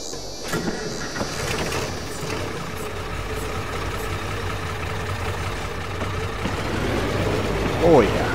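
A small utility tractor engine idles in Farming Simulator 22, a steady low mechanical rumble with a faint whine that swells slightly near the end.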